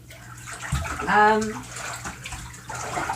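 Water runs from a tap into a filling bathtub, a steady splashing stream under a person's quiet talking, with a brief louder gurgling swell near the middle.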